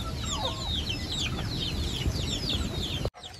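Native country chickens cluck and chirp in overlapping calls, close and steady, before the sound cuts off abruptly near the end.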